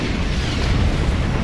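A plasma torpedo explosion striking a Klingon ship in Star Trek Online, heard as a loud, close, sustained rumbling boom that fills the moment without pause.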